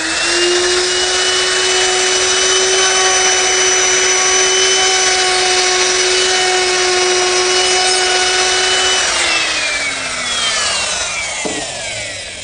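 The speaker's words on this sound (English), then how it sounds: "All of those are accomplished using this chamfering bit" A router fitted with a ball-bearing chamfering bit cuts wood with a loud, steady high-pitched whine that holds for about nine seconds, then drops in pitch as the cut ends and the motor winds down.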